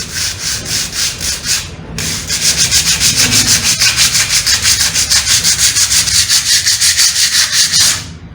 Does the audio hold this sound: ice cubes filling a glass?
no